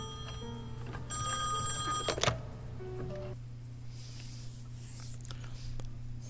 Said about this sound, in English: then he's gonna get a phone call